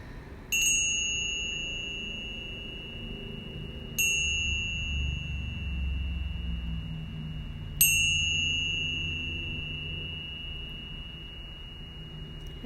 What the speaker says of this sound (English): as you hear the tone of the bells as they shift